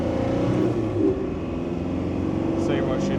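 A Land Rover Defender 90 with a 300 Tdi diesel engine runs on a dyno in second gear, holding a steady loud drone that dips briefly and then carries on, with voices heard faintly under it.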